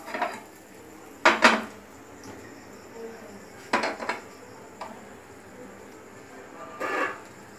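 A kadai is set on a stove while cooking katla kalia, giving a few sharp metallic clanks and scrapes spaced several seconds apart against quiet kitchen background.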